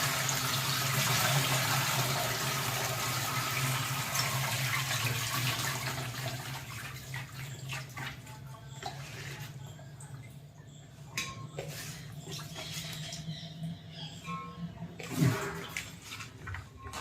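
Radish greens being washed by hand in a vessel of water, a steady watery swish and slosh that starts louder and thins out into scattered trickles and small splashes, close and alone.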